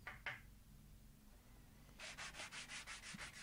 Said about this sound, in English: I just gave the plywood plate a quick hand sand to remove any rough edges